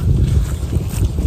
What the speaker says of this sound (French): il y a encore beaucoup de vent